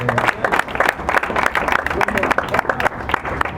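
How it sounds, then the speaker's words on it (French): Applause from an audience at a public address, uneven bursts of clapping with irregular loud hits, mixed with voices and crowd murmur throughout. "Je pense que ça mérite vraiment des applaudissements si nous pouvons le faire."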